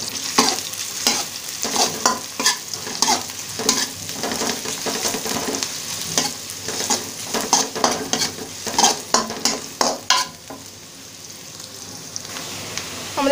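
Onions softening in a sizzling pan for Bangladeshi-style cauliflower singara filling, with a steady fry hiss and frequent scraping stirs of a utensil against the pan, close up, then the stirring stops and quiet sizzling remains.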